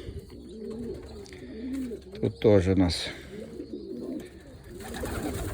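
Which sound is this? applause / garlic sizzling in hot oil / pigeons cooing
pigeons cooing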